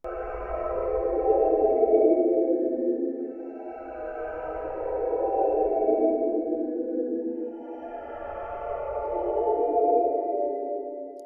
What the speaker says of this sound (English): Haunted underwater violins.